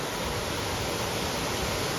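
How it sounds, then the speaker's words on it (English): Turner Falls in Oklahoma, a 77-foot waterfall cascade, roars as a dense, steady rush of falling water, loud and unbroken with no voices. "77-foot waterfall."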